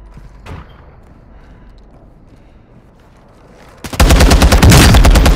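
Rapid gunfire erupts loud and close in a video game shooter, a dense burst of repeated shots following a quieter stretch with a single sharp blast near the start.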